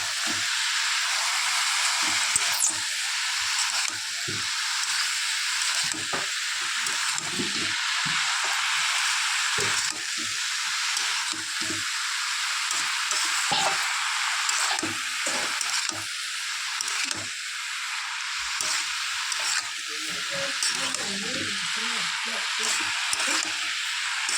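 Bottle gourd and shrimp with turmeric and salt are stirred in a hot pan, with a constant loud sizzle and repeated scraping strokes while a voice talks now and then.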